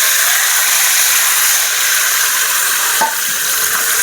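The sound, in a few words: tomatoes sautéing in pan with green chilies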